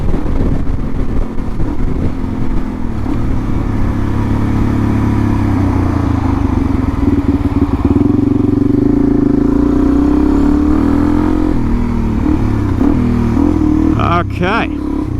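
Adventure motorcycle engine on a ride toward Lake Lyell in New South Wales, a loud continuous close drone with shifting pitch as the rider accelerates, wind rumble throughout and a sharp rattle near the end.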